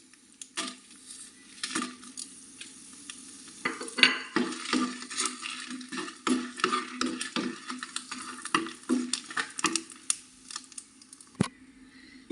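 Dried red chillies frying in coconut oil in a pan, a soft, steady sizzle broken by repeated clinks and scrapes of a stirring spoon against the pan.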